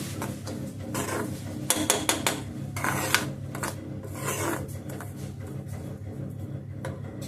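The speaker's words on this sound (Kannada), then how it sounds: "ಈಗ ರೀ ರವೆ ಹುರ್ಕೊಳಗತ್ತೀನಿ" Semolina (rava) being dry-roasted in a pan for upma, giving soft scraping and rasping strokes of a spoon against the metal, irregular and fairly close, with a few sharper clinks in between and low background hum.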